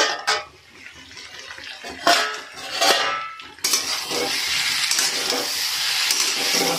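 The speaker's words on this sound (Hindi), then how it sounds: "मसाला भून रहा है।" Spice masala with coriander powder roasts in a pan. A utensil scrapes and clinks as it stirs, over a steady sizzle that grows louder partway through.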